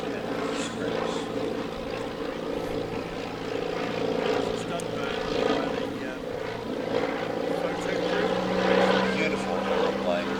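Propeller aircraft flying slowly at the Midlands Air Festival airshow, a steady droning engine hum that holds at a fairly even level throughout, with a commentator's voice talking over it.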